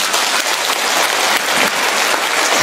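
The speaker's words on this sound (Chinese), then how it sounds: "鼓掌。" A hall audience at a Buddhist gathering in Japan breaks into applause, a bright, continuous crackle of many hands clapping without a voice over it.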